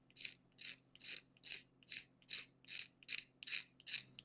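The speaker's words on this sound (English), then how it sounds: "to remove that finish, I'm just going to use this little razor blade" A small razor blade scrapes old finish off a Stanley hand plane's wooden tote in about ten even, rhythmic strokes, each a crisp rasp, close and fairly quiet with silence between them.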